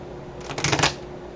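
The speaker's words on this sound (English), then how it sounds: "Get everything all nice and shuffled up here." A quick riffle of tarot cards being shuffled up close, a brief burst of rapid flicking against a quiet room background.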